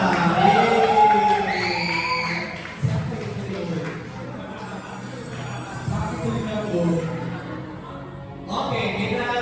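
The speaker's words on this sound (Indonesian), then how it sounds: "Tepuk tangan untuk kita." A crowd at Indonesian Independence Day games shouts and cheers loudly at first, then settles into a continuous noisy murmur of voices and chatter, swelling again at the end.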